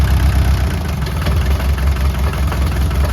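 A 1980 Mercedes-Benz 240D diesel engine swapped into a Chevy S10 Blazer idles loudly and close, a steady low rumbling clatter with constant vibration and no speech.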